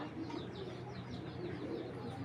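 Koopman racing pigeons coo in a low, continuous murmur of overlapping calls close by, with no one speaking over them.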